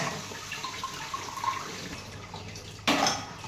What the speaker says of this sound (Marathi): अशी चाळणीतच धुवायची मेथीची भाजी, म्हणजे पाणी पण लगेच नाही.